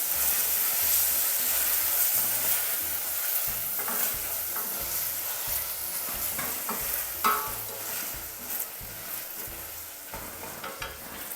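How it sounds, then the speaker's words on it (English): Onions and apple sizzle steadily in a frying pan while being stirred, a close continuous crackling hiss with scraping stir strokes and occasional louder pops, no talk. "our onions and our apple are sizzling away quite nicely"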